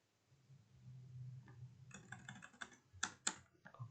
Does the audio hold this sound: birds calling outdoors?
no